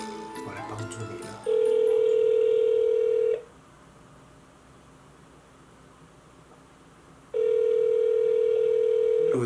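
A telephone call placed to a number rumored to connect to the dark web: a steady ringback tone sounds in two long bursts separated by a quiet hissing gap, after a brief stretch of clattery noise at the start.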